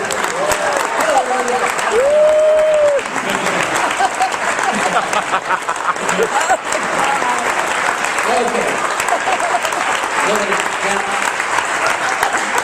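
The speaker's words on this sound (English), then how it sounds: "Give them a round of applause." An audience at a stage hypnosis show breaks into sustained applause, a thick, even roar of clapping lasting many seconds, with a few voices and calls rising above it.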